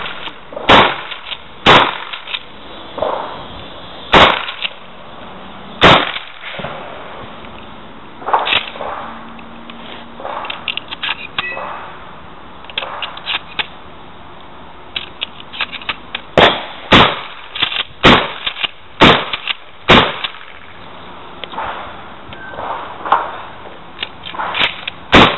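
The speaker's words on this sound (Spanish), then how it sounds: "vamos a efectuar un par de disparos más con desplazamiento" Loud shotgun blasts crack out in spaced bursts, first a few singly, then a quicker run of shots fired while moving, with rustling and movement in between.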